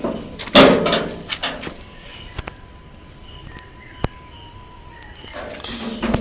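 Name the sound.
house gate being opened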